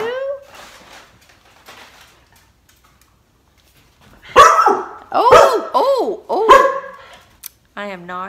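A big dog lets out a series of loud, deep barks up close, starting about halfway through after a stretch of faint background voices and quiet; a softer, higher whine or yip follows near the end.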